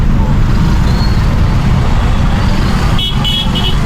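Heavy, congested road traffic in Thoothukudi, India, full of water tanker trucks, gives off a loud constant engine roar, with short car horn toots sounding near the end.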